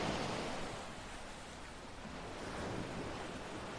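Ocean waves wash steadily at the seashore, a continuous broad surf roar mixed with wind buffeting the microphone, fairly soft and without pauses.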